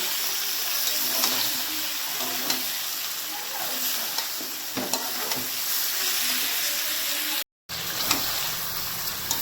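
Chicken meat sizzles loudly as it is stirred and fried in a pan, with a constant hiss and scattered scraping and clinking from the stirring, broken by one brief gap.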